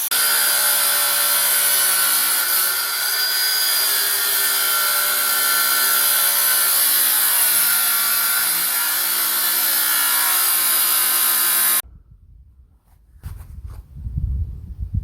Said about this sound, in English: He's dressing up and cleaning the area with flap discs on my angle grinder.